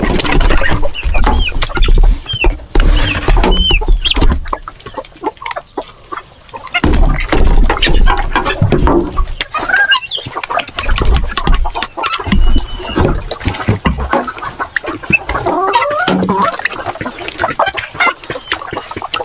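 Hens clucking in a farm coop where some birds sit on eggs and others lay, close and loud with repeated irregular clucks and squawks from several birds over steady barnyard noise.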